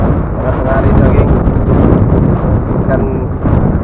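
Strong wind at sea during a light jigging fishing trip in rough weather buffets the microphone in a loud, continuous rumble, with gusty swells and bursts through the whole stretch.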